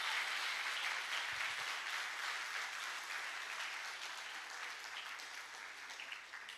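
A church congregation applauds louder during a Portuguese-language worship service, a dense, sustained wash of many hands clapping that stays strong and steady, easing slightly toward the end, with little talk over it.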